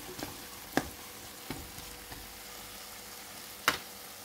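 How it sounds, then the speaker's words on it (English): Food with grated coconut being stirred in a pan, a quiet steady sizzle broken by a few sharp scrapes and clinks of the spatula, close by with no talking. "Give it a stir fry"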